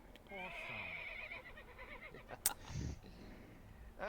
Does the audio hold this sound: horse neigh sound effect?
yes